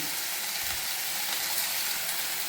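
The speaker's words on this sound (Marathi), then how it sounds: "हे भिजवलेले शेंगदाणे आणि मुगाची डाळ आहे ती ह्याच्यात घालून थोडीशी परतून घेऊ।" Soaked peanuts and moong dal sauté in oil, producing a brief, steady close-up sizzle with no pauses or other sounds.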